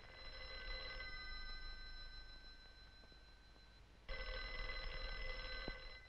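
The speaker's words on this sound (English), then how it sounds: "that's Grandma's telephone ringing" A telephone rings in two long bursts separated by a pause, faint and somewhat distant over a low background hiss, with no voices.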